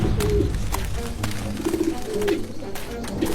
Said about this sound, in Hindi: एक कबूतर बुरी तरह जमीन पर गिरा और फड़फड़ा रहा था